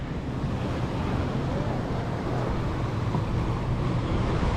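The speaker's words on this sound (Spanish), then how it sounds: "Las olas son más suaves que ayer, ya va bajando el nivel de las olas." Gentle ocean waves wash onto a busy beach, a steady, continuous surf hiss mixed with wind rumble across the whole stretch, with no clear talk.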